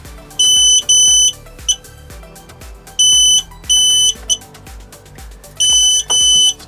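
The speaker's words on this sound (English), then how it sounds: "that's bleeping at me like I'm doing something wrong" Electronic bleeping from an electric scooter's Bluetooth device: loud, close, high-pitched beeps in short repeated bursts with brief pauses between groups, heard alone.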